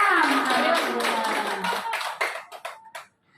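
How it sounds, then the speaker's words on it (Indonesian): A room of teachers and parents at a school presentation claps together, a dense burst of hand claps that thins into a few scattered final claps before silence. "Ada tepuk tangan semuanya."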